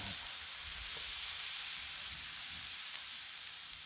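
Burger patties sizzle and fry on a Blackstone flat-top griddle, a steady broadband hiss with faint crackles, close and continuous with no talking.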